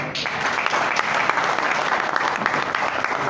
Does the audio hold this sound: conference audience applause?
yes